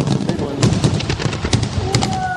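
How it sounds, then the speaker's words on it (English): Fireworks crackle and pop in a quick, dense run of bursts, processed with a hollow stadium-style echo that smears each blast into the next; loud and continuous. "Here's that effect applied to the fireworks clip."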